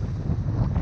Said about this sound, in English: Well, it's very windy now